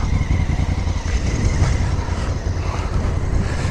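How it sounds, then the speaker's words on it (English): A 2016 Honda CRF1000L Africa Twin motorcycle engine starts and runs, a steady close rumble with low-end pulsing and some wind noise, no talking over it. "Start the bike, push it down. Incredible sound, just get off the bike so you can hear it."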